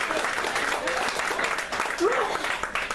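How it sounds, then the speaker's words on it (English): An audience applauds a debate panel in a hall, a steady dense wash of clapping filling the whole clip with no pause. "Let's give our panel a great round of applause."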